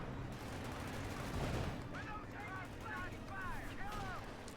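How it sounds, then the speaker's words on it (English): Distant exchanges of gunfire during a Company of Heroes 2 real-time strategy battle, with faint crackling shots and rumbling under a continuous, fairly quiet battlefield din. "Lots of back and forth firing here."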